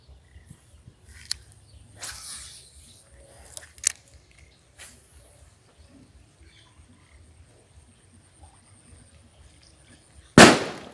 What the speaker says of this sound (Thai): ระเบิดไล่นกพิราบ